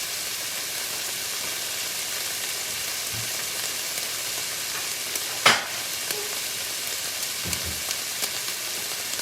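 Beef and broccoli frying in a pan for a keto dish, a steady loud sizzle with a sharp clatter midway and a few soft knocks.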